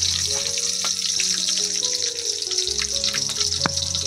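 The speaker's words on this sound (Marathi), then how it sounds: "पहिला आधी लसूण टाकले तेलामध्ये, मस्त अशी फ्राय होते" Garlic and chillies frying in oil in a pan over a wood-fired clay stove, a loud, dense, continuous hiss and crackle with occasional sharper pops.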